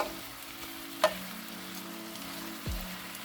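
Meat for Philly cheesesteaks frying in a pan while being stirred, a quiet steady sizzle with a sharp scrape of the utensil near one second and another soft knock near the end, no talking.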